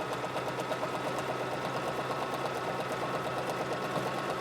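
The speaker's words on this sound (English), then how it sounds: "I'm going to sew all the way down to where it was before" A sewing machine stitches traditional quilt binding with a steady, rapid mechanical whir and needle chatter, close and continuous with no pauses.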